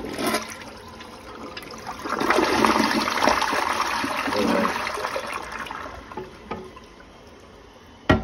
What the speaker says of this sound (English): so no further ado, let's flush